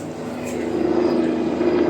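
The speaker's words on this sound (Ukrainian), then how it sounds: "Вертоліт." A helicopter flies over a fifth-floor apartment in Bari, Italy, heard through the window as a steady droning hum with a low tonal whine that grows slightly louder across the clip, with no speech.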